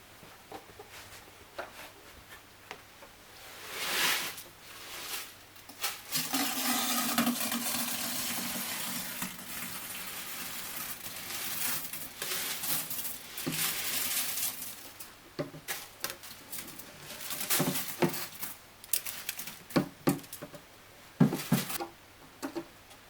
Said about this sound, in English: And we're just going to pour in the substrate.